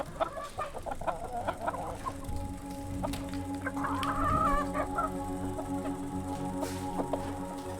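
Game sound effects from the Space Chicken video game: repeated chicken clucks and squawks in an uneven rhythm over a steady electronic hum, loud and up front with no talking.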